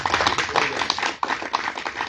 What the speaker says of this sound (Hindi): सभी लोगों के बाद जोरदार तालियां